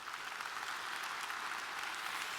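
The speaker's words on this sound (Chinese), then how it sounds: "真的再一次给我们的 Mr. Law 一个热烈掌声" Dense, steady applause from an audience at a regional leadership training meeting in Malaysia, a warm ovation for a guest, sustained evenly throughout with no voices over it.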